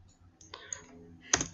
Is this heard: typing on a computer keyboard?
yes